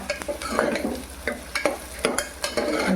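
Onion frying in a pan for misal, stirred with a utensil: steady sizzle under repeated scraping strokes and clinks in an uneven rhythm, close up with no talk.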